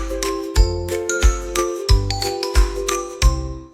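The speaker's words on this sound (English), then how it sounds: "The clock struck 10." A clock striking in a whispered nursery rhyme, a series of bright, ringing chime tones struck one after another in a steady rhythm, each with a low thud, loud and close, no speech.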